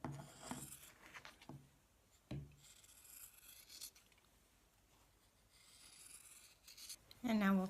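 The fabric seams of a kid-size body pillow are trimmed in a series of short, crisp cutting and rubbing sounds close up, separated by quiet gaps. A brief voice-like tone rises at the end.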